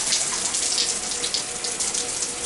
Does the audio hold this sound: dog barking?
no